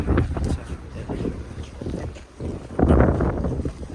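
Strong wind gusts outdoors in Hakodate, Japan, buffet the microphone in heavy low rumbles that surge and drop, with a big gust near the end.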